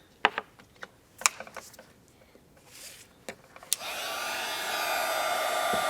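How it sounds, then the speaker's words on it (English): A handheld craft heat tool switches on after a few light taps and clicks, then blows a steady, loud whirring stream of hot air to melt embossing powder on a winter deer greeting card. "And then I'm going to heat that with my heat tool."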